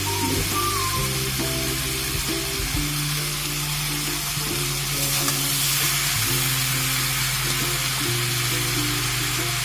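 Vegetables sizzle and fry in a pan of already-fried spices for a Bengali Ilish fish-head and Malabar spinach (pui shak) chorchori, a steady close crackle with stirring clatter and a low hum throughout.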